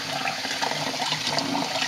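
Cold tap water runs steadily and loudly while a turkey is rinsed in a farm kitchen, a continuous rushing splash with no talking.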